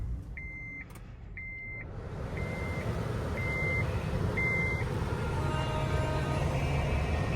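A 2016 Honda Odyssey EX-L engine starts and settles into a steady, close idle, with a series of evenly spaced electronic chime beeps in the first few seconds.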